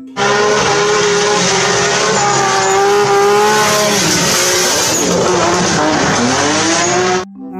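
A toy race car gives a loud, continuous synthetic engine whine with rising and falling revs and tire-squeal effects, holding steady for about seven seconds before cutting off abruptly.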